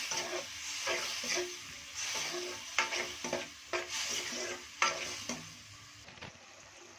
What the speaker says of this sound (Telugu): ఇప్పుడు ఇందులోకి మనం పేస్ట్ చేసుకున్నది వేసుకోవాలి వేసుకుని బాగా మిక్స్ చేయాలి